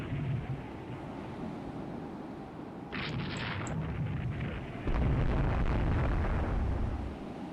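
Naval gunfire in the naval strategy game Rule the Waves 2, heard as dense, continuous rumbling blasts and thuds that swell louder toward the end, with no talk.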